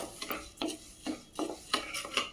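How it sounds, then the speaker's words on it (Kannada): Lentil premix being stirred and dry-roasted in a kadai, with repeated scraping strokes of a spatula against the pan in an uneven rhythm, close and fairly quiet, with no talking. "ಈ ರೀತಿ ಒಂದು ಕಡಾಯಿಗೆ ಹಾಕಿ ಸ್ವಲ್ಪ ಇದನ್ನು ರೋಸ್ಟ್ ಮಾಡ್ಕೊಂಡ್ಬಿಡ್ತೀನಿ"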